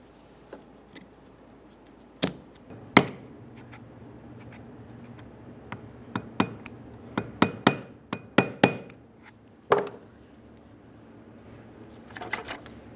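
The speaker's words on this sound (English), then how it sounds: "Once we have it aligned, you should be able to tap it into position." Flat-blade screwdriver tapping a part into position during front axle vacuum disconnect motor work on a 1994-2001 Dodge Ram 4WD: about a dozen sharp, irregular taps and clicks, close and fairly loud against a quiet background with no talk.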